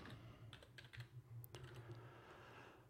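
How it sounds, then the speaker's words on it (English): A name is typed on a computer keyboard in a brief, quiet flurry of soft key taps near the start, followed by faint room hum with no talking. "I'm gonna type my name again."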